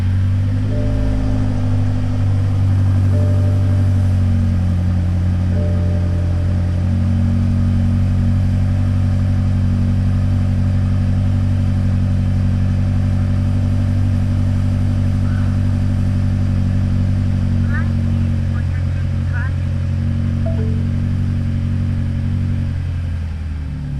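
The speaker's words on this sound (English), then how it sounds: "Just want to hear the cold start" A tuned BMW X5M starts cold and settles into a loud, deep, steady idle, the low rumble holding close and unbroken throughout, with a slight drop in pitch early on.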